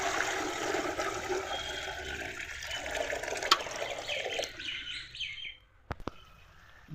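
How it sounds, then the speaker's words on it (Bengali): Water is poured into a pot on a lit gas stove to cook rice for egg biryani: a steady rushing pour for about five seconds that stops abruptly, followed by a couple of faint clinks. "জল দিয়ে দিব ভাতের জন্য।"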